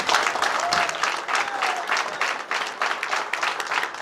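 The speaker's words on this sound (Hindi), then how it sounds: "एक बार आप लोगों के लिए शानदार तालियां होंगी।" A large audience bursts into sustained, dense applause at a Safedeal corporate event, many hands clapping steadily and loudly for the full stretch with no pause.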